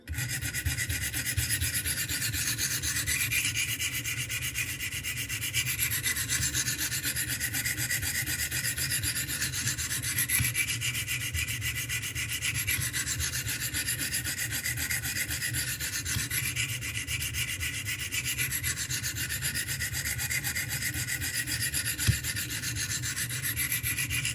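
Steady rhythmic rasping of a Glidstrike knife blade drawn along stones on a Wicked Edge guided sharpening system, even back-and-forth strokes repeating close and fairly loud throughout, no voices.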